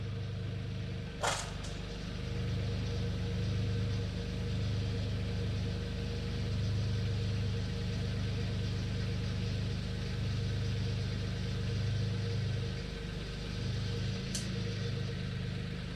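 A Solis H24 24 hp 4x4 compact tractor idles nearby, a steady low engine drone that runs evenly throughout, with one sharp click near the start and another faint click near the end.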